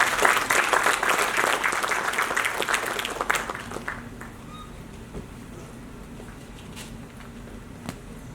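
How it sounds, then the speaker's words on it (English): An audience at an Oxford-style debate claps loudly at first, then the applause fades to a softer, scattered patter. "Please give a huge round of applause."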